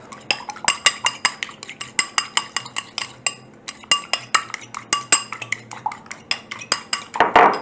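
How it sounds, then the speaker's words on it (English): An egg is beaten with a fork in a bowl for scone egg wash, a rapid, steady run of sharp clinking taps against the dish, close and fairly loud, continuing without pause. "just beat that up with a fork"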